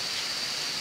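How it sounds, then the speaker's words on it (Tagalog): Steady rain falling outdoors just after stage decorations were finished for a school intramurals event, a dense even hiss that continues without a break for the whole short moment, with no voices. "Pero umuulan ngayon."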